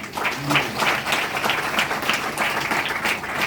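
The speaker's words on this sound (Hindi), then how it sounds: "ताली बजाओ परमेश्वर में" A church congregation claps together during a sermon on overcoming evil powers, dense and lively clapping continuing evenly throughout with faint voices underneath.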